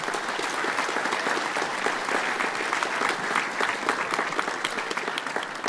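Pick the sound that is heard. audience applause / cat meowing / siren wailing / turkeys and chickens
audience applause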